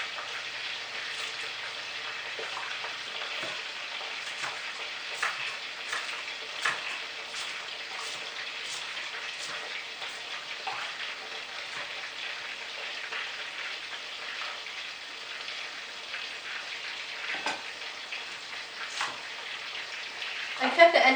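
Lobster balls fry in a pan with a steady, bright sizzle and crackle throughout, close and moderately loud, with scattered pops and a few louder bursts near the end; no one speaks.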